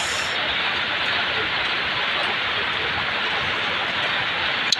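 Steady rain on a rainy morning, a dense even hiss of falling water that stays constant throughout, loud and close with no breaks.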